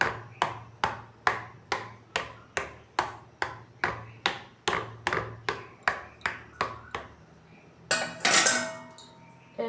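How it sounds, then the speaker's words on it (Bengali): A metal fork taps in a steady, even rhythm, about eighteen sharp clinks, as it pokes holes in an egg pizza in a home kitchen. A brighter metallic rattle and clatter follows near the end. "এখন আমি এই কাঁটা চামচ দিয়ে একটু ফুটো ফুটো করে দেব।"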